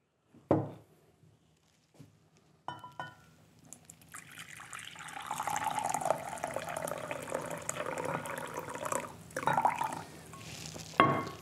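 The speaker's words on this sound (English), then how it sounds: "There we are with the boiling water." Boiling water pours from a kettle into a freeze-dried food pouch, a steady liquid rush building after a few brief knocks and lasting several seconds, close and moderately loud with no voices.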